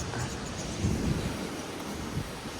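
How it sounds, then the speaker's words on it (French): Steady broadband roar of strong wind and heavy rain buffeting the microphone on a road trip, swelling in a couple of big gusts; no voices. "Il pleut énormément, énormément de vent. Il y a des grosses rafales."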